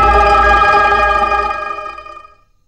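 A telephone rings indoors with a loud electronic bell tone that holds steady for about a second and a half, then fades away to silence.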